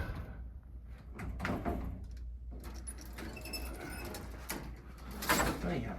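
The heavy original door of an antique 1910s Otis elevator is pushed open, a rumbling, scraping slide with clanks and rattles over a muffled room background, with faint voices nearby.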